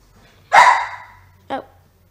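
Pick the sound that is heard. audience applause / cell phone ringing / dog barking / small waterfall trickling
dog barking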